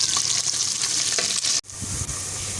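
Ginger and garlic with green chili frying in a pan of oil for a dhaba-style pumpkin and chana dal, a steady close sizzle with stirring that breaks off briefly, then resumes.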